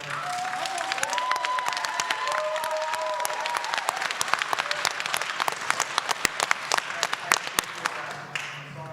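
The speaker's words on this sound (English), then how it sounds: "Let's just clap one more time for all the work that" Enthusiastic applause from a crowd at a speaker meeting, dense clapping that continues steadily and thins out near the end, with some voices mixed in.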